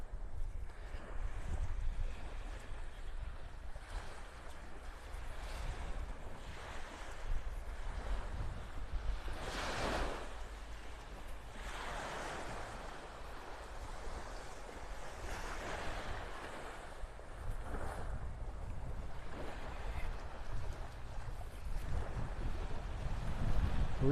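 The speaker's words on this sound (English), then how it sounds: "Breezy, breezy now, walking into that wind." Wind blowing steadily across the beach at Delnor-Wiggins in North Naples, Florida, a continuous rushing roar buffeting the microphone, with breaking surf swelling and fading underneath.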